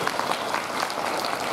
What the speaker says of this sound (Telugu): Give him a big clap.